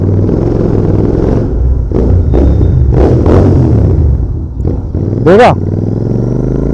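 A Royal Enfield Continental GT 650 motorcycle rumbles loud and close at low rpm, its twin exhaust giving deep thumping blips of throttle, with someone talking over the engine.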